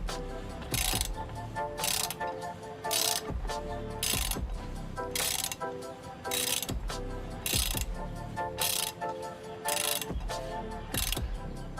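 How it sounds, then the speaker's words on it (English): Ratcheting wrench tightening an oil filter on a diesel truck, repeated rhythmic bursts of clicking with short pauses between strokes, close and clear. "So I'm gonna grab my wrench. And I'll tighten her up."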